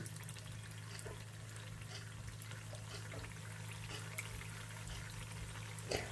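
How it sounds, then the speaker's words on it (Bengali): Pitha pastries dropped into a kadai of mildly hot oil to fry, a soft steady bubbling sizzle with faint crackles over a low hum, quiet and close. "এবারে কড়া বসিয়ে আমি পিঠাগুলো ছেড়ে দিলাম"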